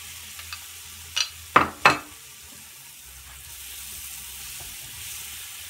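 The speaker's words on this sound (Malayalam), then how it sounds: "ഒന്ന് ഇളക്കിയിടാം" A few short scraping stirs of fish roe in a frying pan, three quick strokes close together, then a low steady sizzle carries on alone.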